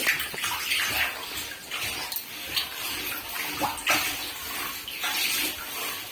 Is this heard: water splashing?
yes